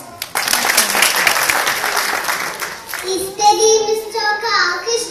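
Applause from an audience at a children's school reading-day show, dense clapping for about three seconds, then children's voices rise over fading claps.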